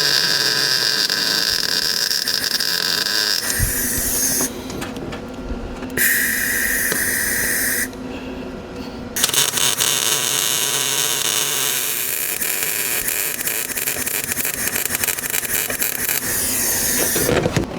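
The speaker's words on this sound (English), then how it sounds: "I'm going to attempt to weld a nut to the top of what's left of this bolt" Arc welding a nut onto the top of a broken bolt in a 2012 Honda Pilot engine, a steady close buzzing crackle running in several long bursts separated by brief pauses, with no talking.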